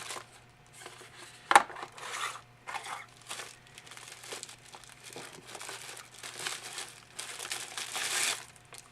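Intermittent crinkling and rustling of a Ganzo G712 knife's plastic bag and pouch packaging, close up, in short bursts with one sharper crackle early on; no talking.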